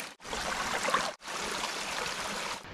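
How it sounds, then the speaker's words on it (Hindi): Himalayan mountain stream flowing outdoors: a broad, steady rushing hiss of running water, close and continuous, broken by two brief dropouts, with no voices. "हिमालय से आ रहा है ये पानी बहते हुए"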